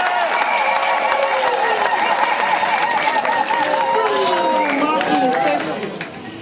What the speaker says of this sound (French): On peut quand même applaudir.